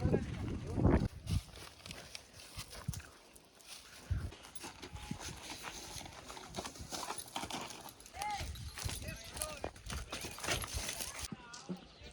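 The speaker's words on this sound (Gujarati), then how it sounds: "ઘોડી આ જાય છે" A mare's hooves clip-clop in an uneven rhythm close by, beneath nearly continuous talk and crowd noise.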